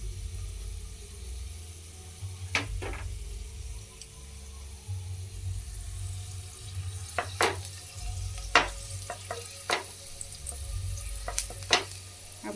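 Garlic frying in oil in a pan before onion goes in, for a smoky eggplant bharta, with a low steady sizzle under occasional sharp clinks and scrapes of a spoon stirring against the pan; no talking.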